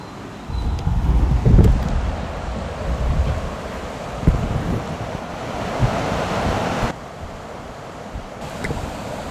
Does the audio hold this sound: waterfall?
yes